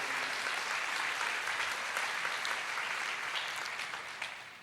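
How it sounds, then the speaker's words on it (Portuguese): A church congregation applauds in praise, a steady wash of many hands clapping at moderate distance that thins out toward the end. "Pode aplaudir. Aplauda ao Senhor."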